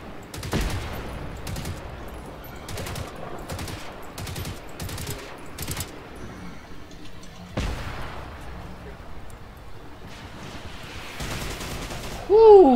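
Rapid bursts of video game gunfire during a robot-era survival fight, a run of sharp repeated shots early on, then scattered blasts, steady game noise underneath and a player talking intermittently.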